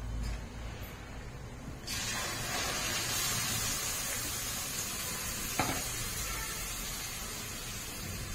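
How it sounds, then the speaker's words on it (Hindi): A masala of tomato, ginger, garlic, onion and green chili fries in a pan with a steady, close sizzle and hiss that swells slightly after a quieter start and carries on unbroken. No voices. "ये देखिए यहाँ पे हमारा मसाला भून गया है"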